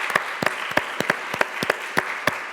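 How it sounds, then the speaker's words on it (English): An audience applauds performers with a burst of brisk, close clapping that continues steadily throughout. "Can we give them a round of applause"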